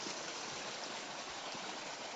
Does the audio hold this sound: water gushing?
yes